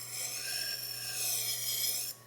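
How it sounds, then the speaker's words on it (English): Tormek T-1 sharpener grinding a kitchen knife, a steady high hissing whine with a low motor hum underneath, faint and continuous until it stops near the end. "try sharpening on a different section to see how that does"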